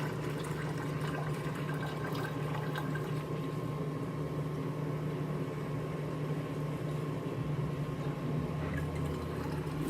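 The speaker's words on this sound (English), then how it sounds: "I'm going to just go ahead and add the distilled water." Distilled water poured into the radiator of a Jeep Patriot during a coolant flush, a steady trickling pour running for about ten seconds under a low hum.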